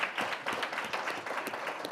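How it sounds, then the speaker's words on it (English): Audience clapping at a solar energy conference talk, a short, steady patter of applause heard faintly from across the room with no voices over it. "So give yourselves a round of applause."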